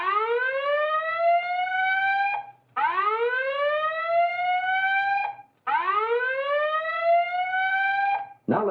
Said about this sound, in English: Autocall has elected to call it the slow whoop.